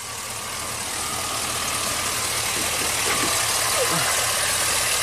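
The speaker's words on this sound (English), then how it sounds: "you see the engine's kind of shaking a little bit" GM truck engine idling rough with a misfire, a steady close mechanical drone with faint uneven shaking pulses throughout.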